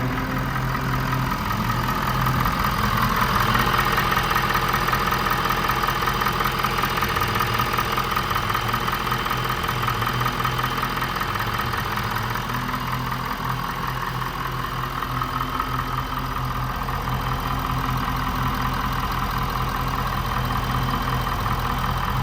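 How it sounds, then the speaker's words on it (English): A 2022 Ford F600 service truck with a 6.7 diesel runs steadily while backing up, a deep, rumbling idle with a rhythmic low throb and a faint mechanical knock, heard close and continuous with no talking. "I'm going to back the truck up right here"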